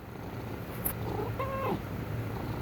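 A pet cat purrs softly and steadily, close by, with a brief faint meow-like note partway through and no talking.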